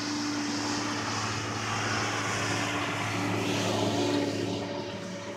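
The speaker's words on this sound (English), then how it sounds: "there's a tractor coming through" Tractor passing by outdoors, a steady low engine drone with a tonal hum that swells slightly and then fades toward the end, heard alone with no talking.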